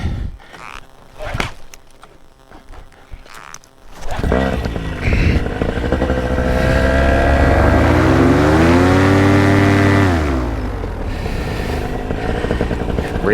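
Paramotor engine starting up after a few knocks, then roaring close and loud, rising in pitch as it revs and settling into a steady run.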